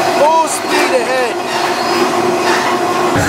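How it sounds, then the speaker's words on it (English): A long freight train passing at full speed, its rumble and rail clatter loud and close, with wheel squeals arcing over the steady roar throughout. "It's definitely a super long train."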